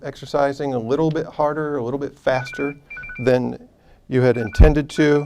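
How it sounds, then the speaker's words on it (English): During a lecture on Parkinson's disease, a mobile phone rings with short, thin electronic tones that cut in twice beneath the lecturer's continuous speech. "That's my phone."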